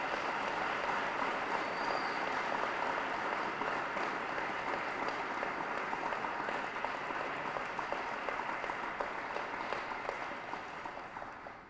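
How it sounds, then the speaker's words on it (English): Sustained applause from a high school hall of fame induction ceremony audience, a dense, even wash of many hands clapping that holds steady for about ten seconds before fading slightly at the end. "please join me in a round of applause for all of tonight's inductees."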